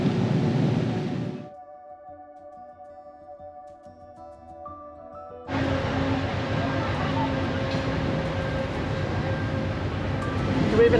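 A train rumbles past near a canal lock while boating in Canada, loud broadband noise filling the first second and a half, dropping to a quiet stretch with faint tones, then the heavy rolling rush returning and holding steady to the end.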